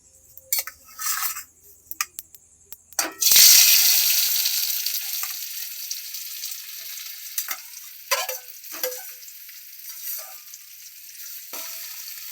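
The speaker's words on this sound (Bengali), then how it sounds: "আমি কড়াতে তেল দিয়ে দিয়েছি, আলুটা দিয়ে দেবো।" Potatoes are tipped into hot oil in a kadai for a vegetarian soybean chop and burst into a loud, continuous sizzle that slowly settles. A few clinks and stirring scrapes are heard before and after the hiss.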